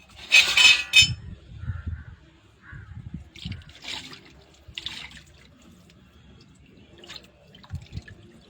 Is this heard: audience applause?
no